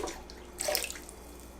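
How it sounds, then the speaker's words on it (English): Water mixed with vinegar is poured into a mop bucket for cleaning hardwood floors, giving a brief splashing pour in the middle with quiet room tone on either side. "I'll just pour a little bit into the bucket."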